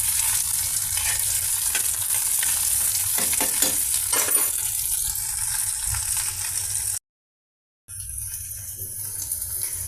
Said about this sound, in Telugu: కర్రీ లీవ్స్, పోపు మసాలా సీడ్స్తో మన బెండి పీసెస్ ఈ విధంగా ఫ్రై అవుతున్నాయండి.